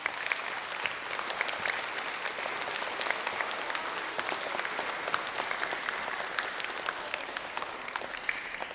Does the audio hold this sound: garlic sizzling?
no